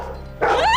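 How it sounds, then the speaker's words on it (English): A dog gives a single sharp bark on command after a short quiet pause, close and loud, with the bark's pitch rising at the end. "Bark twice."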